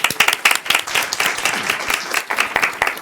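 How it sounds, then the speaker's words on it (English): Attendees at a school board meeting clap for themselves, a smaller, uneven round of applause with distinct individual hand claps pulsing in and out rather than a smooth roar. "give yourselves a great big round of applause."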